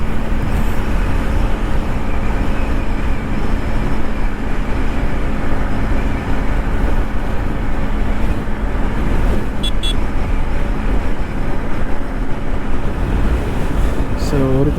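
Vehicles passing on a road, a continuous loud rumble of traffic close by throughout, with a brief horn-like tone near the end and a voice faintly under the noise.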